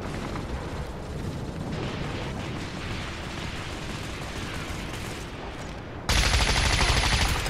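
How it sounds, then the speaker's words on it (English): Dense, continuous gunfire and explosions roar through a Starhawk beta multiplayer battle, a loud unbroken barrage that swells even louder near the end. "Start firing!"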